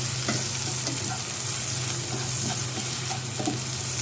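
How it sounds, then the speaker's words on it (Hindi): Spring onions sauté lightly in a pan with a soft, steady sizzle and occasional stirring taps, close and fairly quiet, with no voices. "ब्राउन नहीं करना, बहुत हल्का सा सौते करना है।"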